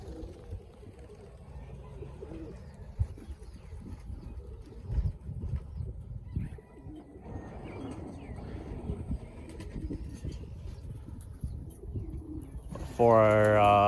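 Racing pigeons coo softly at their loft during an old bird race, a low murmur of calls under steady outdoor background noise, with a louder close burst near the end.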